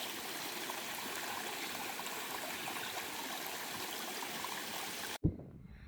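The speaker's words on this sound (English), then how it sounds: "I already have a little river crossing" A small river flowing beside the Appalachian Trail gives a steady, close rushing of water for most of the clip, then cuts off abruptly into a brief thump near the end.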